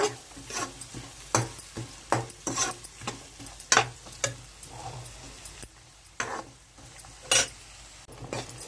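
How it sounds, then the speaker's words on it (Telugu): Chopped onions frying in oil for a dry fish and egg curry, cooked until reddish. Repeated scraping stir strokes sound up close over a steady crackling sizzle, with no talking. "అదే ఆయిల్లో ఉల్లిపాయలు వేసేసుకున్నాను ఉల్లిపాయలు వేస్తానండి కూడా ఎర్రగా ఎగిపోవాలి"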